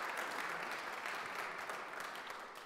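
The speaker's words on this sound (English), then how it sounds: "Yeah, give him a round of applause." A church congregation applauding on Palm Sunday, steady massed clapping from many people filling the space at moderate volume and tapering gently.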